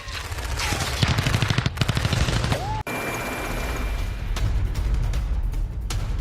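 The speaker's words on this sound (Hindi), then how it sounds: "बंगाल की खाड़ी में इंद्र 2025 नेवी का ये साझा युद्धाभ्यास, आधुनिक हथियारों से लाइव फायरिंग की गई है।" Modern weapons fire live during an India-Russia naval exercise in the Bay of Bengal, with loud rapid automatic bursts and sharp cracks, a brief cut, then heavier booming shots against rushing wind and sea noise.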